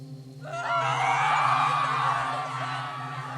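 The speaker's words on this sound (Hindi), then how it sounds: "गाड़ी पहाड़ी रास्ते पर लहराती हुई तेजी से नीचे की ओर मुड़ जाती है। सूरज और रानी घबराकर चीख उठते हैं।" Two people scream in panic as a car swerves out of control down a hill road, a loud sustained shriek over a low steady hum, with no other speech.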